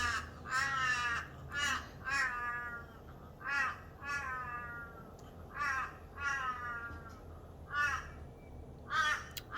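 Crows caw repeatedly in a steady series of harsh calls, moderately close, over a soft outdoor background.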